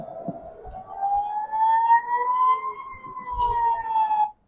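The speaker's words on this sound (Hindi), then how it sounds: "ऑब्वियसली आपने सायरन सुने" An air raid siren wails during a rocket attack by Hamas, a single sustained rising and falling tone that holds loud and steady, with faint low rumbles beneath and no talking.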